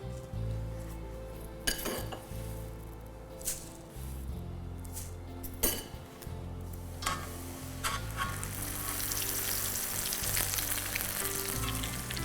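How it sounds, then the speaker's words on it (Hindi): Poha fries on a high flame in very hot oil, giving a loud, dense sizzle that swells toward the end, with a few clinks and scrapes from utensils against the pan. "पोहा है ना बहुत जल्दी, और आग भी तेज है, तेल भी बहुत गर्म है"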